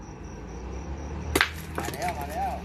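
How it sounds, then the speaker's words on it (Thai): A sharp metallic clack as one petanque boule strikes another during a game, heard at moderate distance over outdoor ambience, followed by faint voices. "เสียงตีครับลูกนี้"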